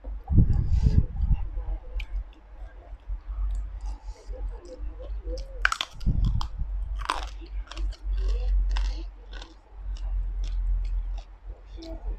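Close, crisp chewing and crunching of spicy Thai cucumber salad with pork sausage and fermented fish, irregular bites and wet squishes repeating steadily, with brief soft voice sounds between.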